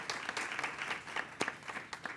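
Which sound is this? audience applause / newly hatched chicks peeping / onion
audience applause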